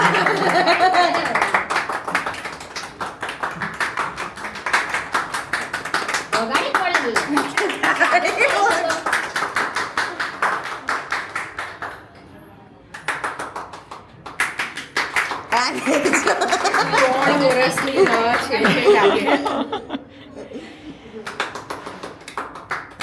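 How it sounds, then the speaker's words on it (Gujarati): Family members clap their hands steadily through a Gujarati welcome ritual for newlyweds at an aunt's home, a busy patter of claps mixed with overlapping talk and some laughter, easing off briefly midway before picking up again. "હવે તાળીઓ"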